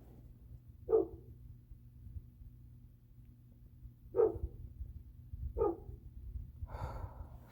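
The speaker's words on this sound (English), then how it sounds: "Sorry, that's a dog barking." Three sharp barks from a dog some distance away, spaced irregularly over a quiet low hum, followed by a softer rustling sound.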